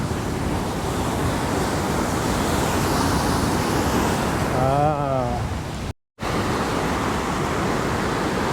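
Steady, loud rushing roar of water pouring through the narrow natural funnel at Huka Falls near Taupo, heard close and unbroken, with a faint brief voice-like tone partway through and a momentary dropout.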